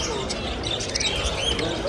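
Mozambique canaries chirping in cages at an exotic animal market, thin high tweets scattered over busy crowd murmur, with a voice talking nearby.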